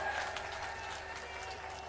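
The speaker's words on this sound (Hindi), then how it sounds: "जोरदार तालियां और जोरदार।" Faint, distant crowd applause at a Rahul Gandhi rally of the Haryana Vijay Sankalp Yatra in Thanesar, Kurukshetra: a steady, even wash of clapping heard from afar, with no distinct individual claps.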